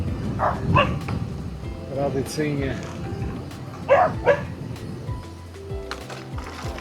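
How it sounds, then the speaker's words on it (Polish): Dogs bark a few times at a distance beside a rural road on an electric-bike ride near the Nida river, with short sharp yaps mixed in among a man's speech and outdoor noise. "jakieś psy znowu"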